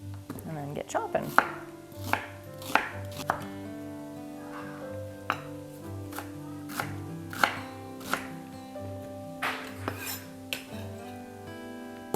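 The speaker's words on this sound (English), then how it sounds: "And then get chopping." A knife chopping a Walla Walla onion on a cutting board, with irregular sharp knocks repeating over several seconds under steady background music.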